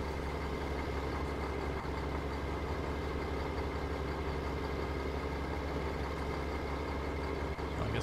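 A log truck with a small day cab and a modest engine idles in Farming Simulator 17, a steady, even diesel rumble that runs loud and unchanging throughout.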